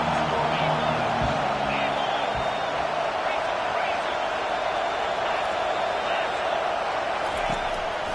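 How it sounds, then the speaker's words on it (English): A home crowd at a football game roars in a steady, dense wall of cheering that fills the whole stretch and never lets up, with faint thuds and muffled calls buried underneath. "how nice is it to have the home crowd going absolutely bananas?"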